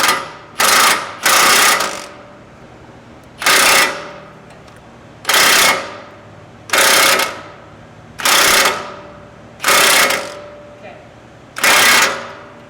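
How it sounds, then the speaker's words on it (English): On a Ford Raptor, an impact wrench torques down Fox shock bolts in about eight loud, sharp buzzing bursts of a second or so each, separated by short quiet gaps. "I'm going to use my impact in the automatic setting so that it torques it down"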